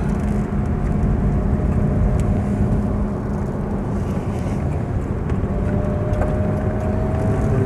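An older car with about 39,000 miles on the clock drives along, its engine a steady low rumble mixed with road and wind noise, continuous and fairly loud without a break.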